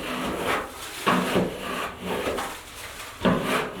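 A scraper drags popcorn ceiling texture off drywall in repeated rasping, scratchy strokes about once per second. The sound is close and fairly loud, with no talk over it.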